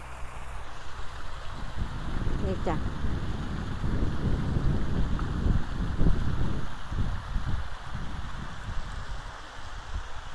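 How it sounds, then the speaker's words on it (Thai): A waterfall in a park in France gives a steady rushing roar throughout, close and fairly loud, with someone briefly speaking over it near the start. "มาทำคลิปเสียงน้ำตก"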